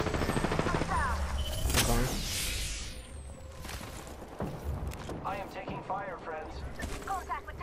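Gunfire in the video game Apex Legends, scattered shots and bursts with mechanical clatter and a whoosh, mixed with voices talking over the action.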